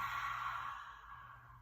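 A long, breathy exhale during a gentle yoga flow, close and soft, gradually tapering off over a quiet background.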